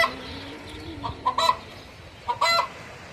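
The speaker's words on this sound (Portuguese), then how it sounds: "E as galinhas estão fazendo o maior barulho aqui" Free-range chickens cluck and squawk in short, loud bursts, with a quieter stretch in between.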